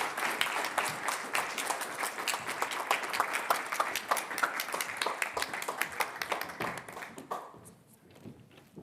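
An audience applauding to welcome panelists at an AI UK 2023 session on regulation in an age of digital transformation, steady clapping from a crowd that tapers off after about seven seconds.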